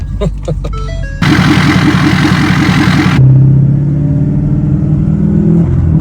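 A Ford F250 pickup with a 10-speed transmission revs hard up close, a loud rising roar that drops back to a rumbling idle, with a short burst of clatter and no talking.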